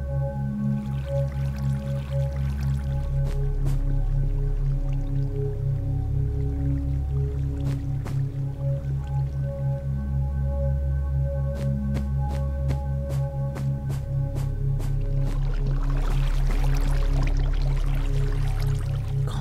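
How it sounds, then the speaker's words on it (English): Water ambience in the Minecraft Alpha 1.1 video game: a steady, close liquid bed with repeating dripping, squishing pops and soft tonal pulses, continuous throughout with a brief louder swell near the end. "Calm, relaxing sounds of water."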